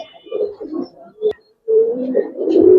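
A pair of red jira pigeons coo in a pigeon farm, several close, throaty coos with short breaks and a sharp tap in the middle, without speech.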